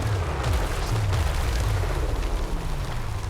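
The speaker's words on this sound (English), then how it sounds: "apart from dodging the nasty explosion-y thing, which are about to try and drop on me" Artillery shells explode in a Total War: Warhammer 3 battle, a dense, continuous rumbling roar of booms and bursts layered over the din of the fight.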